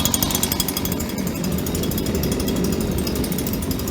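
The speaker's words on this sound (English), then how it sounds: "You can sort of hear it. Got the blower connected again finally." A blower feeds a rocket stove waste oil burner, giving a loud, constant roaring rumble with a rapid fluttering pulse throughout, close and alone without speech.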